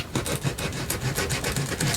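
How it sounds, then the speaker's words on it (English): Small sanding disc on a rotary blender tool rubs rhythmically along the edges of a mini paper journal folio, close and moderately loud with quick repeated rasping strokes. "you could put a little sanding disc on the edges"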